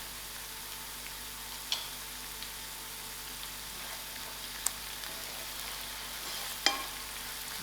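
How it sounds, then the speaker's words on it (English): Onions frying in a pan, a soft continuous sizzle with a few sharp pops and clicks scattered through, close and fairly quiet. "I'll allow these onions to fry a little."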